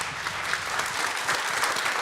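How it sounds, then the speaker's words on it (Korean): A church congregation at a Sunday afternoon service claps together in steady, sustained applause, a dense wash of hand claps that fills the room without letting up. "하나님께 감사의 박수 올려드립시다."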